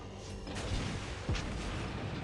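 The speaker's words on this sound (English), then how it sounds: "take a look at the dispersion when firing main guns one at a time" Main guns of the battleship Lenin fire in World of Warships Blitz: a deep boom near 1.3 s over steady low game rumble, with a fainter earlier shot.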